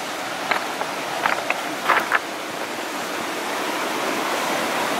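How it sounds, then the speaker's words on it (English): A forest creek runs below a historic gold mine and mill site, a steady broadband rush of flowing water with a few brief clicks and taps near the start. "Of course, there's the creek down there."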